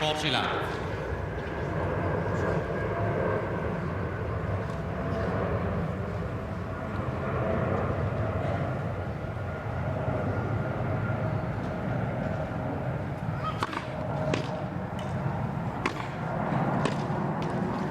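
A passenger airliner passes overhead on approach to Heathrow Terminal 3 near a London tennis club, a sustained broad roar heard throughout under a commentator's speech and background crowd noise.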